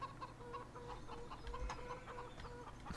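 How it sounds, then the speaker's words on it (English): Chickens cluck repeatedly in Farming Simulator 17 on the Sunshine Valley farm map. The short clucks come in a steady rhythm over a low farmyard hum, fairly close, with no talking. "Here is our chickens."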